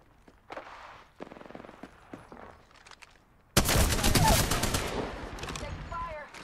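Gunfire in Apex Legends: a few scattered shots and clicks, then a sudden loud burst of rapid automatic fire that rattles on for several seconds, close and dominant.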